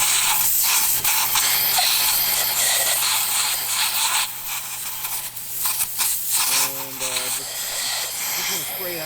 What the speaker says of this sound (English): we got the air compressor out. We got this little nozzle on it.